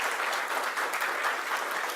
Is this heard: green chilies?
no